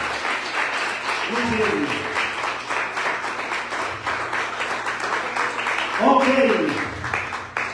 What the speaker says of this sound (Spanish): Un fuerte aplauso al Señor por ello.